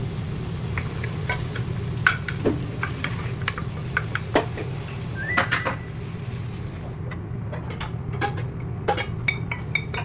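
Butter sizzles in a pan for butter chicken curry with a steady, fairly soft hiss, a few light clinks of utensils scattered through it and no talking.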